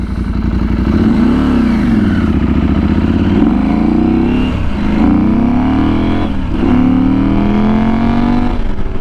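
KTM 790 Adventure R motorcycle with a likely non-stock exhaust, loud and close, its engine revving up through several gears in rising and falling sweeps with brief dips at each shift.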